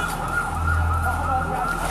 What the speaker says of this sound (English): Someone is being transported by an ambulance away from the scene.